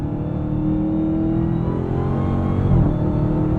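Engine note of a 2023 Dodge Challenger Hellcat Black Ghost, a steady loud drone with a high supercharger whine layered over the revs and a brief swell near the end, heard from inside the car.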